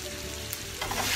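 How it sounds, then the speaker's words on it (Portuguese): Beef steaks sizzle in a hot pan, a steady frying crackle that swells louder near the end, with no one talking. "E agora aqui vamos começar a fritar o nosso bife."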